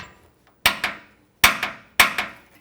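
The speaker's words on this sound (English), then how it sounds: "grab our torque wrench and lock all 4 of these bolts down" Three sharp metallic clicks from a torque wrench ring out as it tightens rear bumper bolts on a Jeep Wrangler JL Unlimited. Each click is doubled, the hits are spaced apart, and the sounds are close and clear with no talking.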